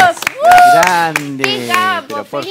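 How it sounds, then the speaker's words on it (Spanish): Studio audience claps for Gustavo, a drummer on a variety TV show, with scattered hand claps under loud overlapping voices and talk. "Un aplauso para Gustavo"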